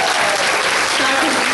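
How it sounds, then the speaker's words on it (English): An audience at a state awards night applauds loudly and steadily, a dense wash of close clapping that continues without a break and may partly cover a voice. "And another very big round of applause."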